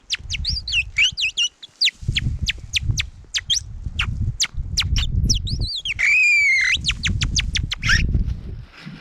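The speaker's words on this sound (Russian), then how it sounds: "Синичка просвистела, значит, быть морозом." A great tit chirps and whistles close by at a winter ice-fishing spot in the Komi Republic, rapid high calls and a rising whistle over low rumbling handling noise.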